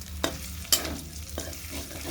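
Food frying in a kadai with a steady sizzle, marked by a few sharp spatula scrapes and knocks against the pan.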